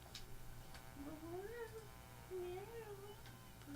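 A house cat meows twice, drawn-out rising and falling cries spaced a second apart, fairly close over a low steady room hum with faint clicks.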